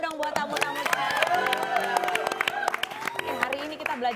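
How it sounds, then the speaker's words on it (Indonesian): Indonesian TV talk show studio audience clapping and cheering for guests, rapid scattered claps with whoops, mixed with voices talking and laughing over it. "Kasih tepuk tangan dong buat tamu-tamu."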